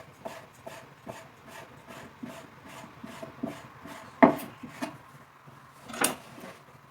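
A knife cuts finely through stacked sheets of noodle dough on a wooden board, a quick run of soft, even taps with a few louder knocks near the end, close by and with no talking.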